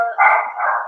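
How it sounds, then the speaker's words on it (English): Dogs bark nearby in a short, fairly loud burst lasting under a second, with no talk over it. "You can have dogs in the background"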